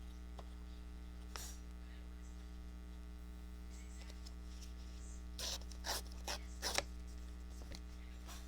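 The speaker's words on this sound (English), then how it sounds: "But I like tearing paper like that." Sheets of journal paper being torn by hand, a few at a time, in several short ripping bursts over a steady electrical hum, with no talking.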